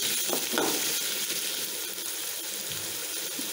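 Onions frying in hot oil with curry leaves and chillies for a chickpea curry, giving a steady sizzle with faint water-like hiss and a few light stirring clicks, no talking.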